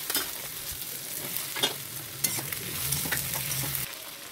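Chopped pumpkin and drumstick pieces fry with tomato and green chilli in a pan for sambar, a soft continuous sizzle punctuated by several spoon scrapes and clinks of stirring before the sound cuts off abruptly.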